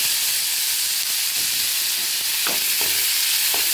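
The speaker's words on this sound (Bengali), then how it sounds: "পেঁয়াজগুলো ভেজে নিই।" Onions fry in oil with a loud, continuous hiss and sizzle, while a few scraping stirs sound near the end.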